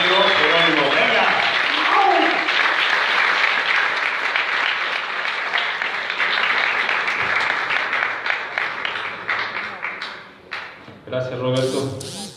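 An audience gives a warm round of applause to welcome a speaker, a scientist and documentary maker named Jerónimo, at a talk; the clapping swells early, tapers off, and a voice begins speaking at the end.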